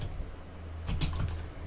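Computer keyboard typing in a mIRC scripting session, a soft run of quiet key clicks with a few slightly louder strokes near the end, alone without talk.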